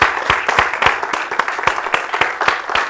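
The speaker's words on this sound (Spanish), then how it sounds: "quiero pedirles otro aplauso para nuestro Señor" A church congregation applauds in praise, dense overlapping claps with sharp individual hand strikes standing out, loud and steady throughout with no talk.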